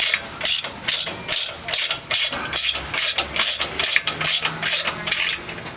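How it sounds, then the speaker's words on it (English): Ratchet wrench backing a bolt out of a 2004 Nissan Murano control arm, rapid rhythmic clicking strokes repeating close up through the whole stretch without pause. "A ratchet wrench works great here also."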